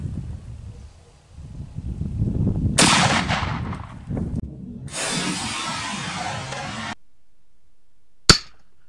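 A Mosin Nagant rifle chambered in 7.62x54R fires a round through stacked aluminum and stainless steel plates: one sharp, loud crack near the end, preceded by hissy rushing noise bursts and a quiet gap.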